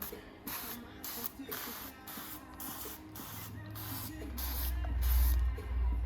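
Short hissing bursts of cooking oil spray on pastry in a steady rhythm, about a dozen quick pumps, with a low rumble building underneath toward the end.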